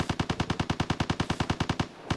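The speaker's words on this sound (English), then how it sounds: "why are those gunshots going off?" A rapid burst of automatic gunfire sounds in the video game Vigor, about eighteen evenly spaced shots fired in quick succession, moderately loud and then stopping abruptly.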